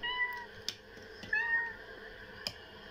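A man imitates a cat's meow during a video game session, making short wavering mewing cries, several in a row, fairly quiet and close, with a few faint clicks between them.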